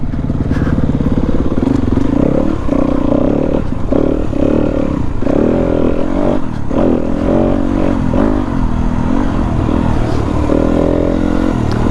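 A 2019 Yamaha WR250F dirt bike ridden off-road gives a loud, continuous engine drone that rises and falls slightly as the throttle shifts, with no pauses.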